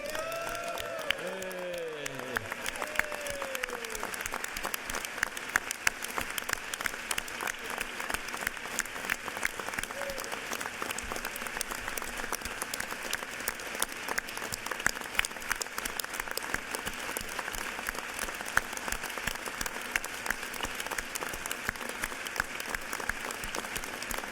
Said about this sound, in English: if we could give the incredible Talmadge James a round of applause on the day of her retirement